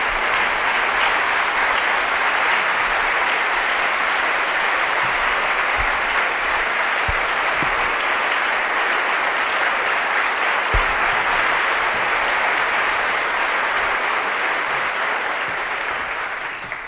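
A large audience at Yale applauds warmly to welcome Aung San Suu Kyi, with steady, dense clapping that holds at full strength for about seventeen seconds before just starting to ease.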